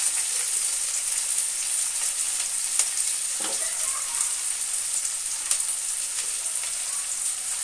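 Chopped ginger, dried and green chillies, bay leaves and spices fry in oil for a tilapia curry, a steady close sizzle with occasional sharp pops and light stirring taps.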